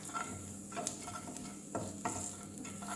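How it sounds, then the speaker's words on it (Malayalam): Chili powder and turmeric are stirred in a frying pan, soft sizzling under a few distinct scraping strokes of the spoon, close up with no voices. "മുളക് പൊടിയും മഞ്ഞൾപ്പൊടിയും മാത്രം ഇതൊന്ന് ഇളക്കി കൊടുത്തിട്ട്"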